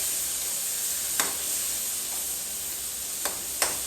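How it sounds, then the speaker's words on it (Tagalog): Tilapia sarsyado is being sautéed in a frying pan with a steady, moderate sizzle and hiss. A few sharp clinks of a utensil against the pan come through near the end. "gigisa ko na ito"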